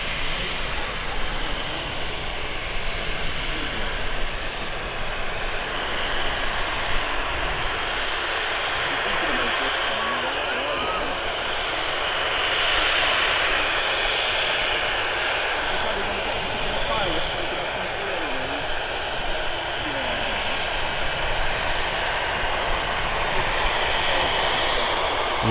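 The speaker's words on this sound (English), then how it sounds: "Very loud taxi on the 737." A Boeing 737 jet taxiing at Manchester Airport gives off a loud, steady, close engine roar that holds without a break from start to end.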